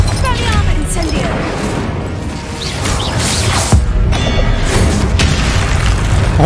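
Spell blasts in Hogwarts Legacy, including the Confringo explosion, land as loud repeated booms and crashes amid dense game effects, with a voice speaking over the action.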